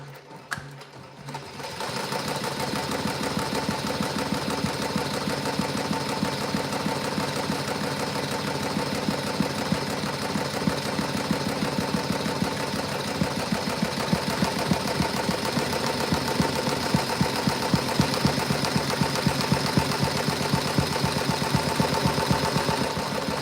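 An embroidery machine starts up and stitches a design, a fast, even, mechanical needle rattle that runs steadily and close for over twenty seconds after a brief quiet start.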